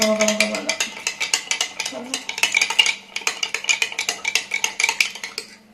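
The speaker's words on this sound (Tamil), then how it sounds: "மின்ட் லீஃபு, சால்ட்டு, சுகர் மூணையும் சேர்த்து இந்த மாதிரி ஃபுல்லாக கரைங்க" Mint leaves, salt and sugar being stirred into lemon juice, a spoon clinking steadily and rapidly against the side of a glass or bowl in close, continuous strokes.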